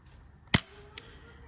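An M1911 gel blaster air pistol fires a single sharp shot indoors, a loud crisp crack followed by a fainter second snap about half a second later, likely the gel ball hitting the target.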